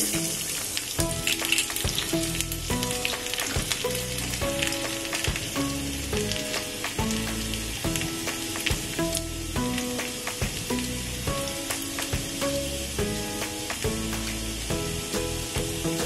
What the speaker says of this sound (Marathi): इथे मी चिरलेलं लसूण टाकते